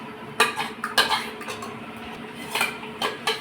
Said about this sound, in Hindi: इसे अच्छी तरह हम फेंट लेंगे, घुमा देंगे